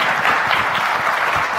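A conference audience applauds after a session on a Delaware blockchain initiative, a steady and fairly loud wash of clapping.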